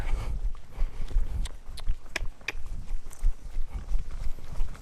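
A two-year-old filly's hooves thud and clop at a walking pace on soft ground during hackamore training, irregular beats with occasional sharper clicks, fairly close.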